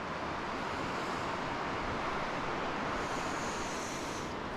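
Steady wind roars across an outdoor riverside campsite on the Sauk River in fall, as a continuous broadband rush that buffets the microphone for the whole stretch, with no talking.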